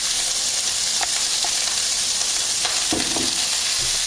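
Italian sausage frying in hot oil in a pan for fried rice, giving a steady, close, broadband sizzle with a couple of brief stirring clatters partway through.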